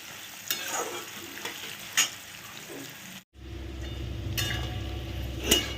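Potatoes fry in hot oil for a grated papaya and prawn dish, a steady close sizzle with scraping stirs that briefly drops out, then returns as a denser, louder frying hiss.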